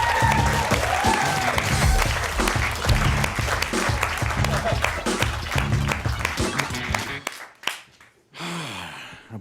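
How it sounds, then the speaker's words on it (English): A comedy roast audience breaks into loud, full applause and cheering that swells over a thumping beat, then cuts out abruptly near the end, leaving short bursts of sound. "A big round of applause for Gimli, everyone"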